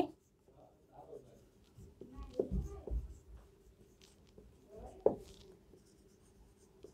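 A math formula being written out by hand, likely chalk or pen strokes: scattered scratchy taps and short strokes come in bursts, with a sharper mark near the end, faint and close, amid quiet room noise.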